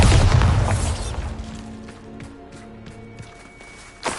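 A Bombarda blasting spell in a Harry Potter video game erupts in a loud, deep explosion at the start, its rumble fading over a couple of seconds, followed by scattered debris clatter and a small pop near the end.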